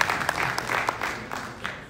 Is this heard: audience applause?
yes